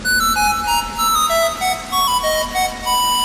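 A bright electronic ringtone melody plays close by, short tonal notes repeating in phrases, with no one speaking.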